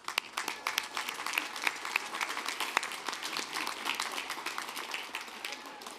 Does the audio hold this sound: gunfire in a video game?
no